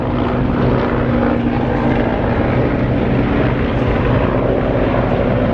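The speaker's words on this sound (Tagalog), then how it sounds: "Ingay ng mga plane helicopter pala." A helicopter passes overhead with a loud, continuous rotor and engine roar, thick low throbbing that stays steady and dominant throughout.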